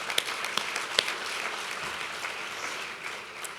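An audience applauding at a National Philanthropy Day event in Orange County, steady dense clapping from a crowd throughout, with a few sharper nearby claps standing out.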